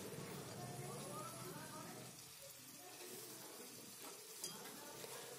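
Cumin powder and spices fry in a pan while being stirred, a close, steady sizzle with soft scraping from the stirring.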